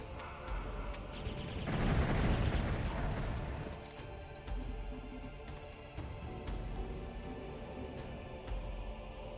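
Nitro golems firing at the player in a dark fantasy video game, a rumbling blast swelling early on, then repeated muffled pops and booms at steady intervals over a constant low background drone.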